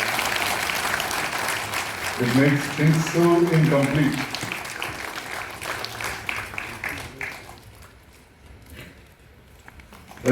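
Applause at a World No Tobacco Day 2024 event in Srinagar: a crowd's clapping runs under a man's speech, then thins out and fades toward the end, leaving a quieter room.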